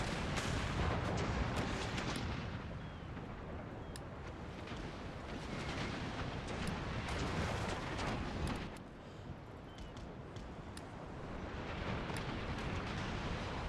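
Naval cannon broadsides in the Empire Total War game roar as a dense, continuous barrage of overlapping booms and rumbling, loud and sustained with brief sharp cracks throughout.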